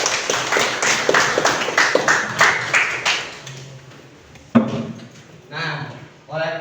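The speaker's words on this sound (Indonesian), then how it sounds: "Boleh kasih tepuk tangan" Classroom applause: a burst of brisk, scattered clapping from a group of students for about three seconds, then fading into quieter room sound and a voice talking.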